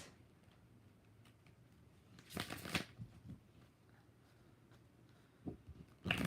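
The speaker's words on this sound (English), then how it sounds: "I'm going to use the purple deck. Five shuffles." A tarot deck being shuffled, a quiet riffle burst in the middle followed by a couple of soft card taps near the end, close but faint.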